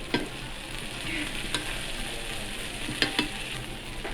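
Okonomiyaki ingredients with dried seaweed and grated bonito being mixed on a hot griddle, a continuous soft sizzle broken by a few crisp scraping clicks from the utensils.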